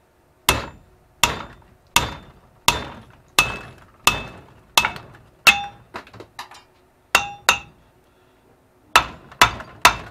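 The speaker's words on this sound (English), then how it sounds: "Let's see if we can just bust it off with the hammer like they say." Sharp metallic hammer blows ring out one at a time on a trailer receiver lock pin held in a vise, about a dozen strikes in a steady rhythm with a short pause before the last three.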